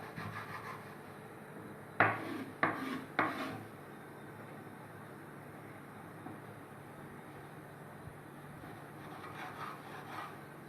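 A knife trims pastry sheets on a cutting board in a home kitchen, giving three sharp, close taps and scrapes in quick succession over a quiet room hum, followed by faint, sparse knocks.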